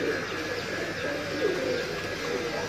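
An old pigeon in a loft gives soft, low cooing calls, a couple of brief rolling coos over a dense, steady background hum, fairly close but not loud.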